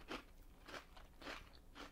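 Thai Lay's potato chips crunched while eating, four soft, evenly spaced crunching bites close to the mic, quiet, with no talking.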